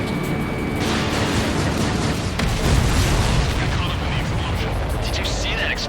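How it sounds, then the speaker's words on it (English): A supply ship explodes in the jet combat video game Ace Combat 7: Skies Unknown, giving a sustained, loud, dense roar and rumble of blast with heavy jet noise throughout, and a brief radio-style voice partly over it. "Did you see that explosion? Looks like that's one of them down."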